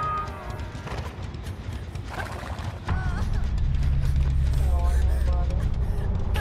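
Horse in the Dead by Daylight video game, hooves clopping and whinnying neighs rising over background game noise, with people talking over it.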